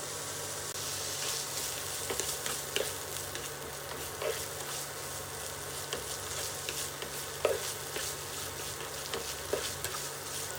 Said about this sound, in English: Pan fry 100 grams of pancetta until golden.